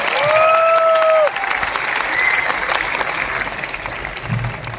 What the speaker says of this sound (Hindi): जोरदार तालियों से अगेन स्वागत करें।